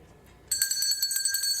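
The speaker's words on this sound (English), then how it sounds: "We love that sound, and who was ringing that bell?" A bell rung by a 4-year-old boy: a bright, sustained, rapidly repeating metallic ring that starts abruptly and continues without pause, loud and close, with no voices.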